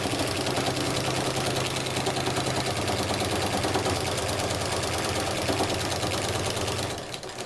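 Sewing machine running steadily while stitching binding onto a quilt, a close, continuous mechanical whir and rapid needle clatter that holds for several seconds and slows near the end.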